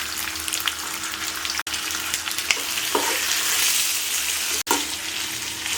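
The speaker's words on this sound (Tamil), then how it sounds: "இஞ்சி பூண்டு, இப்போ மட்டன் லிவர் சேர்த்துக்கலாம்" Mutton liver frying in a pan with ginger garlic, tomato and onion, a steady sizzle with stirring and occasional clinks, close and moderately loud.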